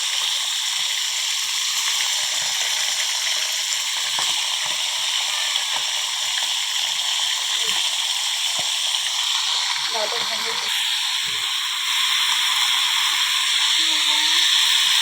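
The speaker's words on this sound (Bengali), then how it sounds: "চিকেনটা ভেজে নিচ্ছি।" Chicken frying in a pan for chicken biryani gives off a steady sizzling hiss throughout, growing slightly louder toward the end, with soft clinks and stirring scrapes underneath.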